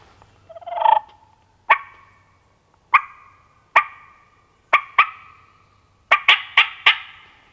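A wild turkey on a cold morning sounds off in a series of sharp, loud calls: a drawn-out first note, then single bursts at steady intervals and a rapid cluster near the end, each ringing briefly in open air with no voices.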